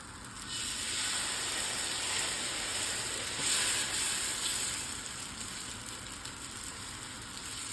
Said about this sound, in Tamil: இப்போ இது நல்லா மிக்ஸ் பண்ணிவிட்டு தோசை தவாவில் நார்மலாக தோசை ஊற்றுற மாதிரி ஊற்றிக்கோங்க